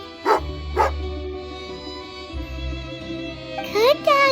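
A dog in the Genshin Impact video game barks a couple of times in short, close bursts, then gives a few more rapid yips near the end, with steady game music running underneath.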